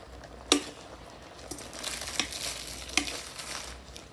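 Close stirring of Mama instant noodles with egg in a pot, a few sharp utensil knocks against the metal over a bubbling, sizzling boil.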